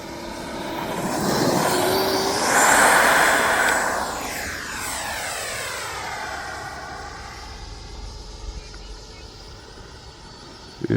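A Freewing F86 Sabre 80mm electric ducted-fan RC jet flies past, its whine swelling loudly then fading with a sweeping pitch drop as it passes and recedes into the distance.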